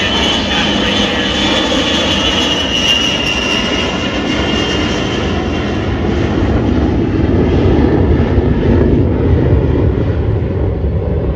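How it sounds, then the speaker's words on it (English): A C-17 Globemaster III jet transport from Altus Air Force Base flies at an air show with its landing gear down. Its engines give a loud, close, steady roar that fills the whole stretch without letup, swelling slightly toward the end. "the C-17 Globemaster III out of Altus Air Force Base"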